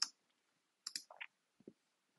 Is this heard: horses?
no